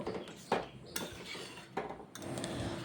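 A lid is set on a cooking pot, with a few quiet metallic clinks and scrapes, separated by short pauses, over a faint background.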